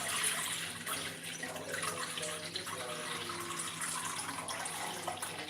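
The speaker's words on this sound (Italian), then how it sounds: "metto l'acqua" Tap water runs steadily into a bowl for hand-kneaded pizza dough, a continuous close splashing stream with no talking.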